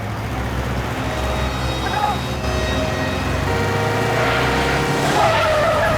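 Skidding tyres scrape and squeal under a roaring engine, rising and shifting pitch over several seconds with a louder surge near the end, amid a busy dramatic scene.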